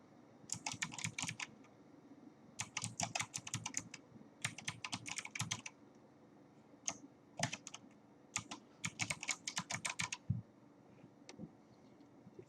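Bursts of clicking keystrokes on a computer keyboard as an email address is typed into a profile form, coming in quick clustered runs separated by short pauses, close and fairly quiet, with no talking.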